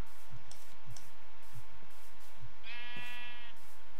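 A sheep in Minecraft lets out a clear wavering bleat partway through, against soft background clicks and faint ambient hiss.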